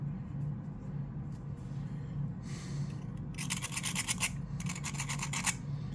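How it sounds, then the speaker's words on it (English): A raw diamond is dragged across a hard surface, giving a series of short, bright rasping scratches in the second half over a low steady background hum, with no speech. "Let me find a good surface to try scratching."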